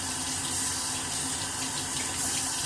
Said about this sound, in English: I was just wetting down my brush.